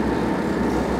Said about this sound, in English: I see a train moving